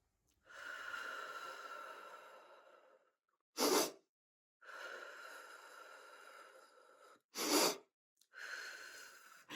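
Congested breathing from rhinitis, long wheezy nasal breaths, each broken up by short, sharp sniffs and snorts, close and fairly quiet against silence.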